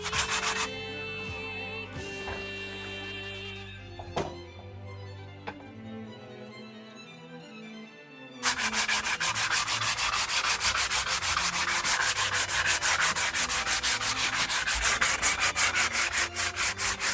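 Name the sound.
sanding wooden bachi drumstick with 120 grit sandpaper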